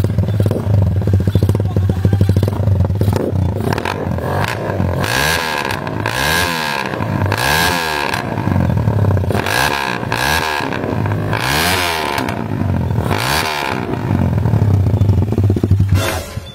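A loud motorcycle with an open exhaust pipe revs repeatedly for New Year noise-making, rising and falling in sharp bursts over a constant rough idle.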